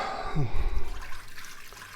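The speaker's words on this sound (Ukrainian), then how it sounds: "Заливаємо водою." Water poured into a pressure cooker holding yeast, a short close gurgling splash that fades into a low slosh.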